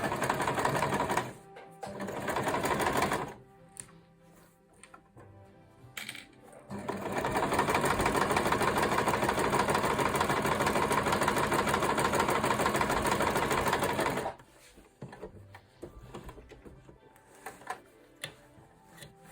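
A sewing machine stitches the fabric lining of a zippered makeup bag, with short bursts of clicking needle action, then a long steady run of fast rhythmic stitching, close and clear with small handling noises between runs.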